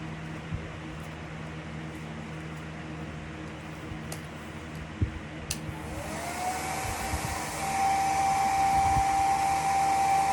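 A hair dryer drying ink on a sunflower hat switches on midway with a steady, loud, close rushing blow and a rising whine that settles into a constant tone, with quiet handling noise before it.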